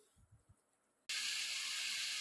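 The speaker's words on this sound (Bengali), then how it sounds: "তো বন্ধুরা দেখো আমি কড়াইতে দিয়ে দিয়েছি, গরম তেলের উপরে দিয়ে দিয়েছি" Spice paste of tomato, onion and ground cumin hits hot oil in a wok, a few soft handling knocks giving way to a sudden loud, steady, close sizzle that fills the rest.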